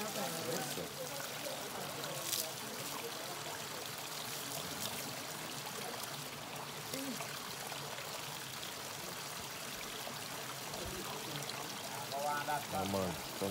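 A bath fountain pours water in a steady, continuous rushing stream at moderate distance, with no clear breaks.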